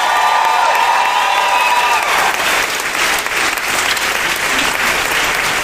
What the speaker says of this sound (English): let's give a big round of applause to HBO for this